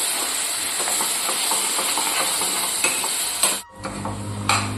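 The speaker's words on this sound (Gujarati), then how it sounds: "જે આ લસણ આપણે ખાંડીને લીધું હતું તે નાખી દઈશું। થોડી વાર માટે તેલની અંદર સાંતળતા રહીશું।" Pounded garlic sizzles steadily in hot oil in a pan for a spicy Kathiyawadi garlic chutney, with a loud, continuous hiss, a brief dip, then a sharp scrape near the end.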